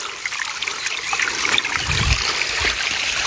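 Clear stream water trickles and splashes steadily near a waterfall above a tunnel, close and continuous, with a brief deeper gurgle midway.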